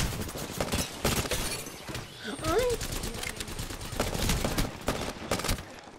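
Gunfire in the video game Apex Legends, heard as repeated short bursts of rapid shots at moderate loudness under ongoing player talk, with brief gaps between volleys.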